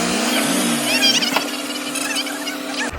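A Massey tractor engine strains close by while hauling a heavily loaded trolley of roughly 500–600 maunds. Its loud droning hum rises and falls in pitch under changing throttle, then cuts off abruptly at the end.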